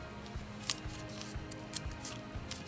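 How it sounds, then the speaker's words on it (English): A small piece of tape is pulled and pressed onto a llama-shaped weaving loom, giving a few quick, crisp crackling snaps close by in a quiet room. "I'm going to come around and just put a little piece of tape on it for you."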